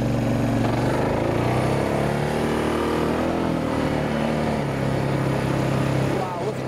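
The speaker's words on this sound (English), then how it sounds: "Just bear with the motor because I'm going to just try to drive you through here" Vehicle engine droning steadily while driving along a rough route, a loud low rumble that holds through the whole stretch with slight swells in pitch.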